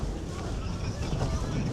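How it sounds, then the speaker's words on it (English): Wind buffets a microphone outdoors in a loud, rumbling, continuous roar for a brief moment. "it's getting windy"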